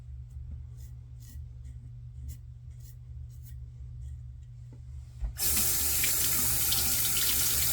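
A bathroom tap gushes into a sink for rinsing after a shave, a loud steady splash that cuts in abruptly after a quiet stretch of faint rubbing and low room hum.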